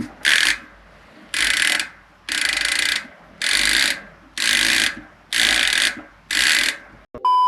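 A mountain bike hub ratchets loudly in seven evenly spaced bursts of rapid clicking, each about half a second long, with short pauses between.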